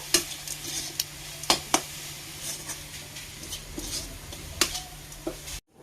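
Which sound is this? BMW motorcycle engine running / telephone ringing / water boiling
water boiling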